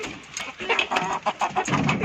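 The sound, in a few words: hens clucking while eating leaves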